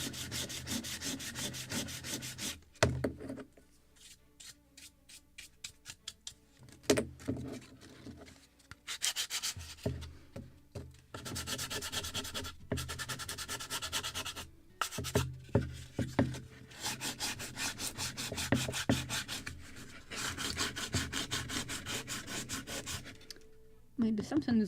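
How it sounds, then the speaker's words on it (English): Hand sanding on the wooden bow of a Midwest Muscongus Bay lobster smack model boat kit, a long stretch of rapid back-and-forth rasping strokes, close and steady, with brief pauses between bouts. "I think I need a slight sanding in the bow still,"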